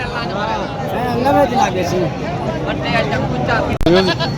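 Goats at a bustling livestock market before Qurbani bleat repeatedly in wavering cries over a constant babble of people talking, with a sharp knock near the end.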